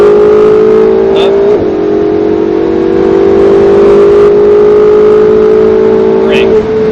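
A sports car engine on a track revs loudly and steadily close by, a sustained droning tone that dips briefly as it shifts, while a voice gives driving instructions over it.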